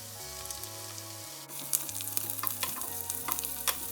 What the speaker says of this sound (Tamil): இப்படி ஒரு பதத்தில் வதங்கின பிறகு இந்த கழுவி வச்ச பேர கருவாடையும் இதுக்குள்ளே சேர்க்கும்.